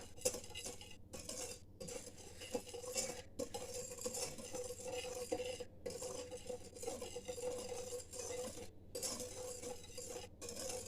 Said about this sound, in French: maintenant, faut mélanger